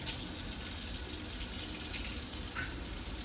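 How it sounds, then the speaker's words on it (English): A kitchen tap runs while hands are washed under it after chopping meat. The water rushes and splashes softly and steadily, fairly quiet throughout. "let me wash my hands here."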